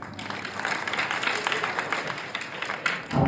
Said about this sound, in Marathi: तुमच्या सगळ्यांसाठी मी सुद्धा टाळी वाजवतो.